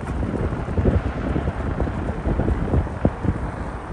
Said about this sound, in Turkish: Rüzgarın sesine bakın